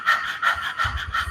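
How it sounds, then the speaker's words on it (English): Breath of fire in Kundalini yoga, fast rhythmic panting driven from the navel, about four or five quick sharp exhalations per second, close and steady with no talk. "you're doing a breath of fire, which is a fast breath from the navel"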